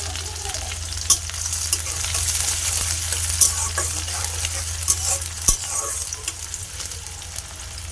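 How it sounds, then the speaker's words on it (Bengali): Onions sizzle steadily as they fry in a pan, with scraping stirs and a few clinks of the utensil sounding close by. No one speaks. "পেঁয়াজটা অনেকটা ভাজা হয়ে গেছে"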